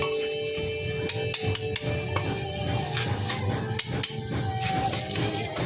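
A chisel knocks stuck cement loose during volunteer barangay work: a handful of sharp metallic taps, some paired, stand out near the mic over a steady background hum.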